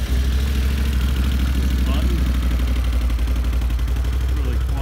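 Can-Am Renegade 850 XXC ATV from 2017 running at idle with a steady, fairly quiet low throb close by, continuous throughout.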